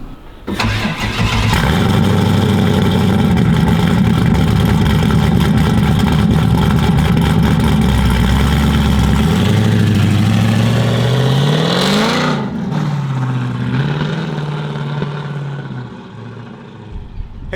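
A 1971 Chevrolet Camaro SS engine fires up loud and close, settles into a throbbing idle, climbs through a rising rev, then drops back and winds down.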